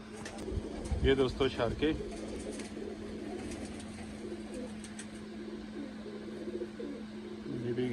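Domestic pigeons of a home-bred line coo softly in a loft, a steady low cooing through most of the stretch, with someone speaking over the start and faint background hum.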